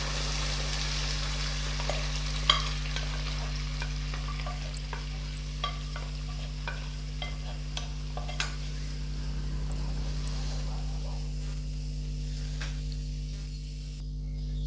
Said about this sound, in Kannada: ಈಗ ತರಕಾರಿ ಬೇಯಿಸಿಟ್ಕೊಂಡಿದ್ನಲ್ಲ ಬೀನ್ಸು ಕ್ಯಾರೆಟು ಮತ್ತು ಕ್ಯಾಪ್ಸಿಕಮ್ ಇದಿಷ್ಟು ಹಾಕೊಂಡಿದ್ದಾರೆ